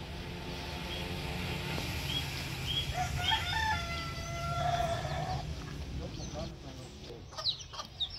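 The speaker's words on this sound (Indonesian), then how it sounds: "disambut dengan kokok ayam" A rooster crows in the middle distance in a plantation, a drawn-out call over steady outdoor background noise, with a few clucks and faint voices nearby.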